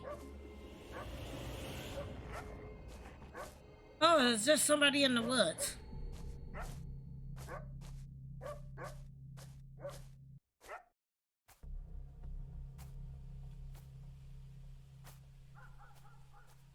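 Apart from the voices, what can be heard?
dog barking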